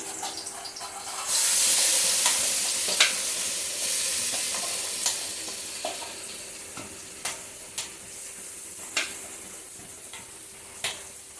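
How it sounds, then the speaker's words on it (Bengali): A plantain mixture fries in oil and ghee with black cumin in a kadai, giving a steady, close sizzle that rises after a moment. A spoon stirring against the pan adds scattered sharp clicks and scrapes. "এখন এই মাখাটা আমি দিয়ে দিচ্ছি কড়াইয়ের মধ্যে।"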